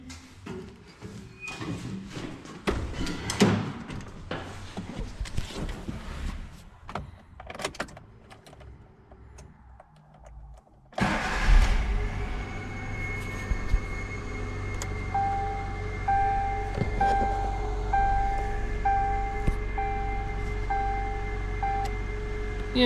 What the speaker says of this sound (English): The vehicle is on the ground, so now I'm going to start the engine.